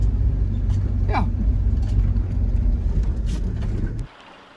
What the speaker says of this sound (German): weil wir fahren jetzt ins Flussbett rein